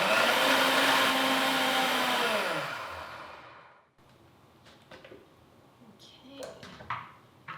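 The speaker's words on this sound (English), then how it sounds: "Now we're going to blend this mixture for about 1 to 2 minutes until it's nice and creamy." A blender runs loud and steady on an almond-based vegan cheese mixture, then winds down and stops around the midpoint, followed by quiet clinks and handling noises.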